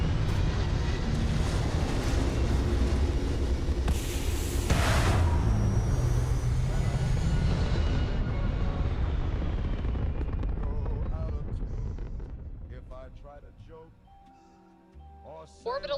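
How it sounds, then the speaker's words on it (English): A spaceship lifts off in a video game, a loud sustained roar and rumble that swells briefly, then fades and thins out as the craft climbs away. "Successful liftoff."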